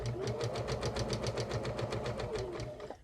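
A sewing machine stitches a fabric face mask in a fast, even run of needle strokes with a low motor hum beneath, close and alone, slowing slightly just before it stops.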